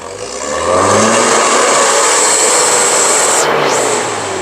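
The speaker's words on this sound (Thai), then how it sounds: "เดี๋ยวจะเร่งให้ดูนะครับ" A 2000 pickup truck's engine revs up and holds a loud, steady roar close by for several seconds before easing off slightly at the end, with no talking.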